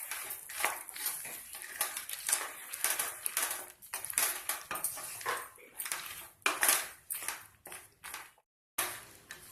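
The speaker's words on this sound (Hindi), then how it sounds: "मूंगफली डाल के आप इसको अच्छे से चला लीजिए।" Peanuts stirred into hot jaggery syrup in a pan for peanut chikki, giving a steady run of close scraping, clinking and rattling as the spoon works through the pan, with a brief silent gap near the end.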